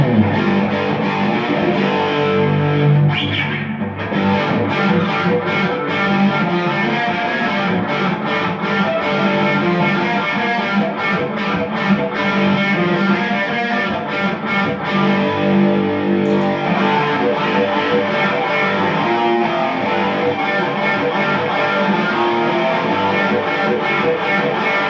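Electric guitar played through the distortion side of a pedalboard rig, a thick, saturated driven tone ringing loud and continuous for about 25 seconds with sustained chords and no talking.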